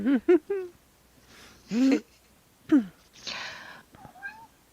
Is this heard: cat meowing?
yes